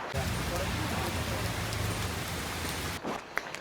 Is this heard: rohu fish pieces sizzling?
no